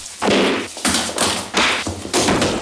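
Slaps landing in a Jean-Paul Belmondo film fight scene: four sharp, loud smacks spaced roughly half a second apart, each a crisp broadband hit with a brief tail, no voices.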